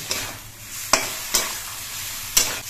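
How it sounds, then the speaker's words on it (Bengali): A spoon stirs black cumin paste through cooked taro greens in a pan, giving a soft continuous scraping with three or four sharper clacks against the pan over a low sizzle. "কালো জিরে বাটাটা নেড়ে চেড়ে মিশিয়ে দিয়ে আমি কচু শাকটা নামিয়ে নিচ্ছি।"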